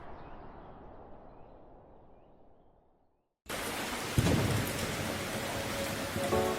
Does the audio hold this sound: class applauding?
no